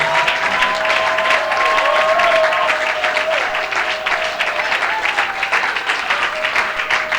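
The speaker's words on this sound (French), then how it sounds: "Acclame très fort pour la gloire de Dieu" Worship congregation clapping and cheering in a long, steady burst of dense applause with scattered shouts and whoops throughout, loud and full.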